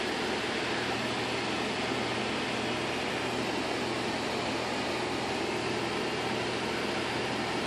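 Blower fan driving air into a charcoal water gas reactor, a steady, loud broadband whoosh that holds constant with no change throughout.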